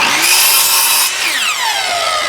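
A power saw rips through a wooden board being cut into shingles, a loud sustained whine that drops in pitch as the blade bites and then winds back up.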